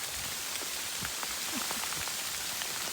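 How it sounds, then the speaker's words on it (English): Hail falling outdoors during a sudden storm, a dense steady patter of many small impacts with scattered sharper ticks, continuous and fairly even throughout, with no talking. "It's hailing."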